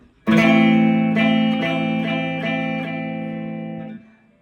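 A guitar minor chord is strummed and then re-struck several times in a slow rhythm, sounding dull and muffled from flat fingers touching the strings, close up and fairly loud.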